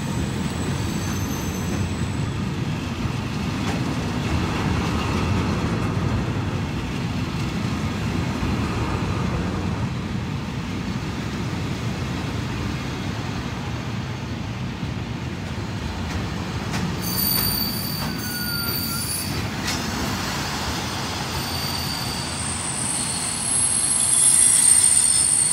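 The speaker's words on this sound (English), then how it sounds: "coming in now is a terminating South Western Railway service from London Waterloo" A terminating South Western Railway service from London Waterloo pulls into Exeter St Davids station with a low, steady rumble, then its wheels squeal in high, shrill bursts as it slows, growing louder near the end.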